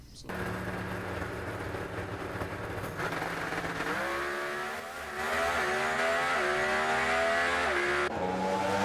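A nitro drag racing car roars down the strip at a four-wide national event in Las Vegas, engine note climbing in rising harmonic sweeps, loud and distant-to-near, under an excited announcer's commentary.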